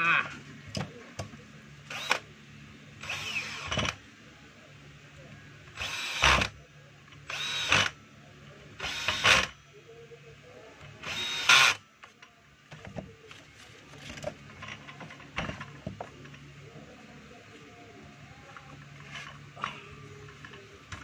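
Screws on a Stanley STEL311 circular saw are tightened with a power driver in short whirring bursts, about eight of them spaced a second or two apart, close by, and quieter clicks and handling follow. Someone talks between the bursts.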